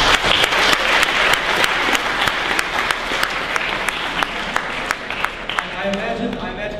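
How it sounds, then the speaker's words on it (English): An audience breaks into sustained applause for Kevin, dense steady clapping filling the room with individual sharp claps popping through, close and loud throughout, with faint voices mixed into the crowd. "if you give a round of applause for Kevin"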